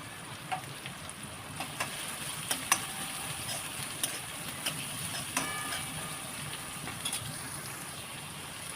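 Onion frying in oil in a pan for matar paneer: a continuous fine crackling sizzle, fairly quiet, broken by small ticks and clicks scattered across the whole stretch.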